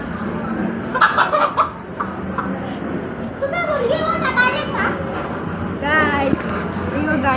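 A chicken held by children clucks and squawks in short bursts amid lively children's voices and chatter close by.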